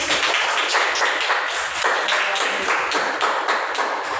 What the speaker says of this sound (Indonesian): Oke, kasih aplaus untuk Alia Wiranti.